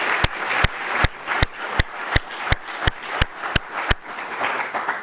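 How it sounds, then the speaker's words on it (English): At a State of the City address, an audience applauds as a broad wash of clapping, punctuated by sharp, evenly spaced loud claps close by, dying down near the end. "could we give him a round of applause"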